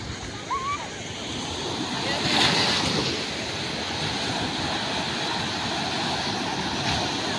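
Sea waves wash onto the shore in a continuous rushing surf, with wind buffeting the microphone and a brief faint sound early on; the wash swells slightly midway and stays steady.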